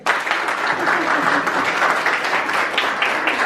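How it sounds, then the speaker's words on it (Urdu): Audience of girls at a welfare prize-giving event claps steadily for several seconds, a dense, even burst of applause close by with no talk over it. "تو تالیاں بجاؤ پھر"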